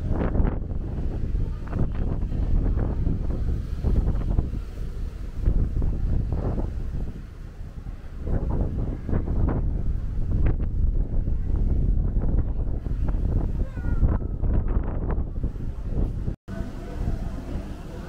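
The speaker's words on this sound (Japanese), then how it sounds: "風が吹いているので" Strong wind buffeting the microphone along Waikiki Beach Walk in Hawaii, a loud, continuous rumbling roar with gusty swells, a brief dropout near the end, and voices faintly underneath.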